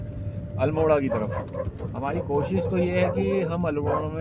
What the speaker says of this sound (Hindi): ये होते हैं गांव के कुत्ते जो हमें गाड़ियों के पीछे भागते हैं